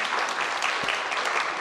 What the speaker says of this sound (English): These are all my family members applauding.